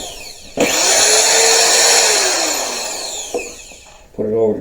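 A drill spins a wire brush against an old wood stove under restoration, a loud steady whir with a rising and falling pitch that drops away near the end before a brief burst of louder grinding.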